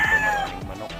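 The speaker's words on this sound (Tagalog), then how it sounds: "Dito maraming manok." Chickens on a Philippine farm give short, close clucks and chirpy calls in quick succession over a low rural background.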